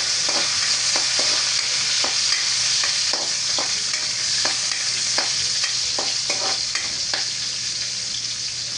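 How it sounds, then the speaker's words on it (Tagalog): Garlic and onion sautéing in a pan with a loud, continuous sizzle, broken by regular scraping strokes of a spatula being stirred through. Close up, with no talking. "Ilagay na rin natin guys yung bawang. Susunod na rin natin guys ang sibuyas."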